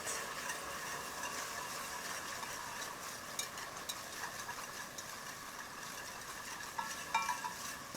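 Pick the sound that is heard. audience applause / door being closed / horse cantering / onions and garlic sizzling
onions and garlic sizzling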